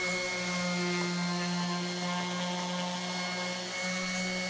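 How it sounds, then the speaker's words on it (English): Power sander grinding steadily against the silver maple log handle of a handmade hammer, a continuous close, loud whirring hum with a strong low tone and bright overtones, no talk. "I carefully sanded down the extra handle that stuck over the top with my sander"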